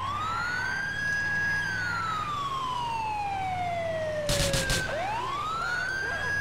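Police and ambulance sirens in Grand Theft Auto IV wail loudly and steadily, one tone sliding down slowly and then sweeping back up, with several siren layers overlapping and a short burst of crashing noise near the end.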